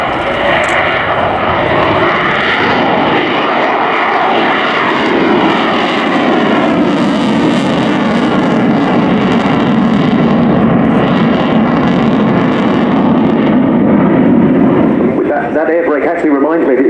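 A modernized Sukhoi Su-27P1M jet fighter passes at very slow speed with its air brake deployed at the RIAT 2018 air show, a loud continuous engine roar and rumble that swells and shifts as it passes, with no talk.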